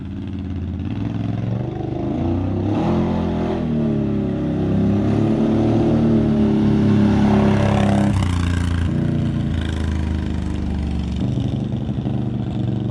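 Exhaust drone from a vehicle fitted with an RJWC Krossflow Mud Edition exhaust, rising steadily as it drives past and then falling away, loud and continuous with no voices.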